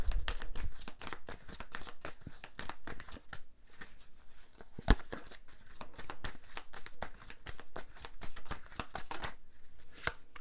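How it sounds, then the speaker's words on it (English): A deck of tarot cards being shuffled and an affirmation card pulled, with a close, continuous run of quick papery flicks and riffling taps and one sharper slap partway through. "Let's pull you an affirmation card for the week"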